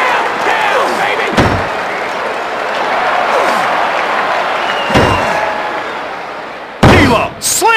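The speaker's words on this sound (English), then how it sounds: "D-Lo slammed onto the mat!" In the Dreamcast wrestling game WWF Attitude, a wrestler is slammed onto the mat with a few heavy thuds that cut through a loud, steady crowd roar.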